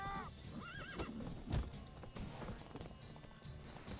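In The Witcher 3, a horse gives a loud, wavering whinny and then another neigh. Quick clip-clop hoofbeats of galloping follow, with impact thuds in the game's soundscape.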